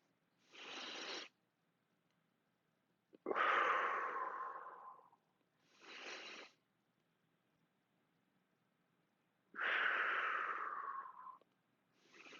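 Slow, deep belly breaths during a breathing exercise in a fitness session: four long, soft breaths alternating in and out, evenly spaced over several seconds each, close and quiet with no talking.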